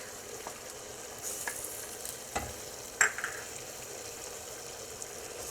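Minced garlic, four cloves, stirred into cooked-through chicken in a frying pan gives a soft, steady sizzle with a few light scrapes and clicks of the utensil, fairly quiet and with no voices.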